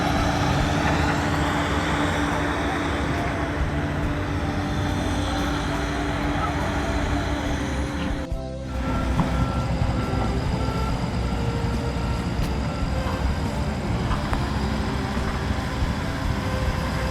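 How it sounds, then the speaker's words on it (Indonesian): Heavy dump trucks haul fill soil at a toll road construction site, a continuous loud engine rumble and road noise close by, with a reversing beep and a voice talking over it. "mobil truk timbunan yang membawa tanah timbunan dari bukit di sebelah utara sana"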